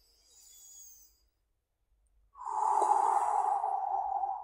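Slow yoga breath in standing mountain pose: a soft, faint inhale, a pause, then a longer, louder breathy exhale held for about two seconds, close and alone.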